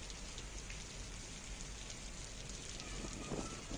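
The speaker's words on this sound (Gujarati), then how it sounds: "સાવરકુંડલામાં ધોધમાર વરસાદ પડ્યો હતો" Heavy rain pours steadily over rural Amreli in Gujarat, a dense, continuous hiss of drops on surfaces that swells slightly toward the end, with no voices.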